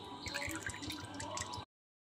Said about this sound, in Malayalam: വെളിച്ചെണ്ണയും ആവണക്കെണ്ണയും 60 ml വീതം ഒഴിക്കുക